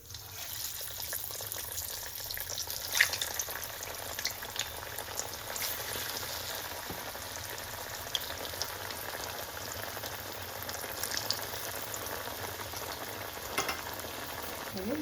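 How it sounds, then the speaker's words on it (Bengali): Chops are lowered one at a time into hot sunflower oil in a kadai and crackle in a dense, steady frying sizzle with occasional light clicks. No one speaks. "কড়াইতে সানফ্লাওয়ার তেল দিয়ে দিলাম, এবার তেলটাও গরম হয়ে গেছে। এখন আমি একটা একটা করে চপ দিয়ে দিচ্ছি।"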